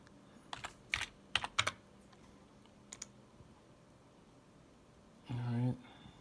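Quick bursts of keystrokes on a computer keyboard while a search is entered, a few clustered clicks early on and scattered taps later, close and fairly quiet, with a short burst of speech near the end.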